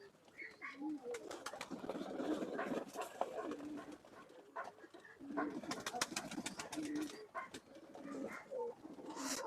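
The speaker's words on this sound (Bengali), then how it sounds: "এটা হচ্ছে নর কবুতর" A male Banaras pigeon cooing close by, a few repeated soft throaty coos that rise and pause in short bouts, with faint chirps in a quiet room.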